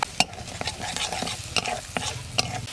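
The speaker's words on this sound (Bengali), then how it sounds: "ও কত সুন্দরভাবে কষা হচ্ছে গো মশলা" Red chilli spice paste frying in a pan for crab curry, with a continuous close sizzle and repeated sharp spoon scrapes and clacks against the pan at an irregular rhythm, no talking.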